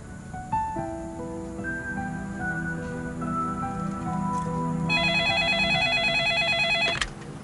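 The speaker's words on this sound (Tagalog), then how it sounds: "Melba, telepono!" A telephone rings in a Filipino drama scene, a steady electronic trill building over a soft musical tone bed, loud and close, cut off abruptly near the end.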